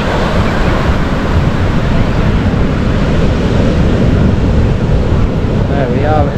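Waves washing in at the water's edge on Kuta Beach, Bali near sunset, a loud steady surf roar with heavy wind buffeting on the microphone throughout.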